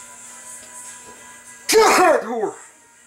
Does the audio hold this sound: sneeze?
yes